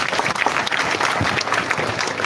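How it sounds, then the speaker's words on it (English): Thunderous applause from a seated crowd at a live event, dense steady clapping filling the whole moment without a break. "Thunderous hand clap."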